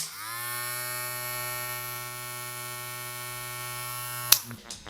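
Steady electric buzzing hum of a hair clipper running continuously at close range, ending with a click and brief handling noise.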